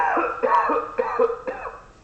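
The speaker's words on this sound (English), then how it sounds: "I'm hearing you coughing quite a bit" A man coughs repeatedly in a hospital resuscitation scenario, three or four close, harsh bursts in quick rhythmic succession with brief gaps between them.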